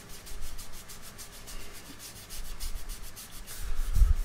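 Paper towel rubbing stain onto a left-handed Tele-style electric guitar kit body, a soft rhythmic swishing of repeated strokes, close and steady, with no talk.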